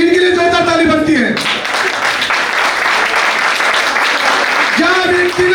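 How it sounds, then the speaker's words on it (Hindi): An audience at a healthcare awards celebration bursts into loud, sustained applause for a few seconds, with a presenter's amplified voice heard just before and again as the clapping fades. "इनके लिए जोरदार ताली बनती है।"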